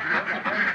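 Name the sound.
laying ducks quacking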